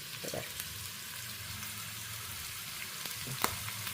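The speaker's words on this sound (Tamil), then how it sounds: "அதனால் வதக்கிட்டு அது கூடயே கொஞ்சோண்டு கருவேப்பிலை போடுறேன்." Curry leaves are sautéed in a pan, giving a steady, close sizzle and frying hiss that runs throughout with a few small pops and stirring scrapes. No voice is heard over it.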